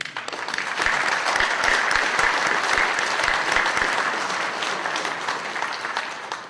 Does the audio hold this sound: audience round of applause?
yes